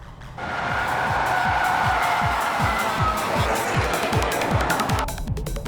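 Race car tires slide and squeal on the Tsukuba circuit during a German-versus-Japanese sports car battle, a loud sustained engine drone with rhythmic rising gear sweeps underneath, continuous for several seconds.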